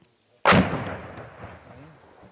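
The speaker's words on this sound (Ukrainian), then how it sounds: "Зараз же стріляють бойовики, переконані наші хлопці, просто так." Militants firing at a frontline position in eastern Ukraine: one loud, close artillery or gun blast cracks out suddenly, then a long rumbling echo fades slowly over about two seconds, with no talk.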